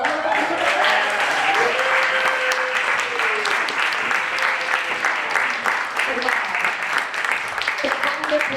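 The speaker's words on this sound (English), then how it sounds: "Let's have another round of applause for them." Sustained audience applause fills a climate town hall on clean energy, steady and dense throughout, with a voice briefly audible through the clapping.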